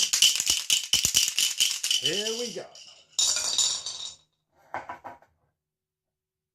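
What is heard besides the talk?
two dice shaken in a cup and tipped into a bowl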